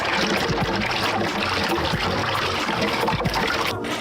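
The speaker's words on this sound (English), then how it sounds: "Now we're going to add 32 ounces of water." Water trickles and splashes steadily into a brine mixture as it is poured and stirred, a close, continuous liquid wash that lasts the whole few seconds with no talk.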